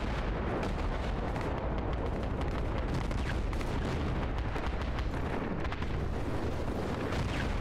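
Explosions thunder continuously in the Project Reality 2 military video game, a dense, loud barrage of booms and rumbling blasts with no letup.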